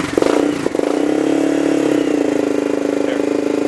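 A 2001 Honda 440 ATV engine, started cold, catches and settles into a steady, loud, close-up running idle with a slightly uneven rhythm.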